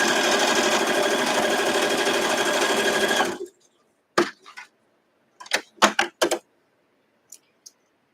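A sewing machine runs a quarter-inch seam on quilt strips pieced right sides together. A fast, even motor drone lasts about three seconds, then stops and is followed by a few sharp handling clicks and taps.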